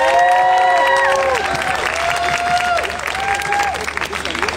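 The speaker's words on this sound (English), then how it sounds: "please give a warm applause to Suki" Warm audience applause with some cheering at a Women's Month event at the V&A Waterfront, greeting Suki after her painting is presented; a dense, steady patter of clapping fills the space, with thin tonal sounds drifting over it.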